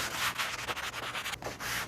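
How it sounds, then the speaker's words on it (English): Steady, close rasping of fine wet-and-dry sandpaper, around 600 grit, rubbed back and forth over hard plastic trim in quick strokes. "a quick sand down with some fine wet and dry or a sanding block"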